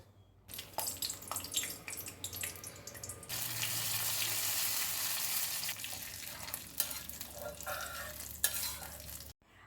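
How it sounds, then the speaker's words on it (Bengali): Two bay leaves and a green chili fry in hot white oil in a wok, a steady close sizzle with stirring scrapes that grows louder and denser midway, then cuts off abruptly. "আমি এখানে কড়াইতে সাদা তেল গরম করে দুটো তেজপাতা আর একটা কাঁচা লঙ্কা দিয়েছি"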